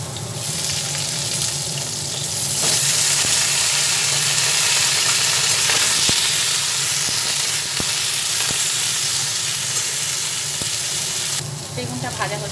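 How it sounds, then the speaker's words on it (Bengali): Eggplant pieces frying in hot oil with nigella seeds in a pan give a loud, steady, close sizzle that swells after a couple of seconds and carries on with faint clinks, without any talking. "বেগুনটা ভাজা হচ্ছে"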